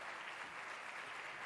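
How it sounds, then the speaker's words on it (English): A room full of people clapping steadily, a dense even applause throughout with no voices. "a round of applause"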